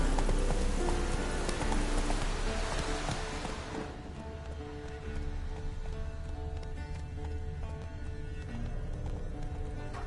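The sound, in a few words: horse galloping in a video game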